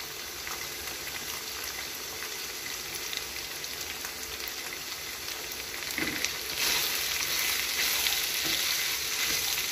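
Shredded cabbage sizzles in a pan with minced meat (keema) for a mixed-vegetable dish, a continuous crackling hiss that grows louder and denser partway through as it is stir-fried.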